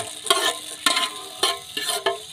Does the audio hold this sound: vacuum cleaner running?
no